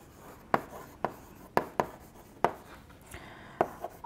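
Handwriting during a mathematics lecture on elliptic curves: about eight sharp, scratchy strokes and taps, spaced irregularly, close and fairly quiet, with no talking over them.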